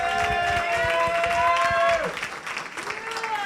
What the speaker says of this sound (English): You got a cheering section.